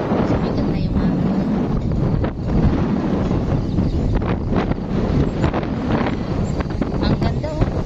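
Strong wind roars across Treasure Mountain, buffeting the microphone in a loud, constant rumbling blast with gusty surges throughout.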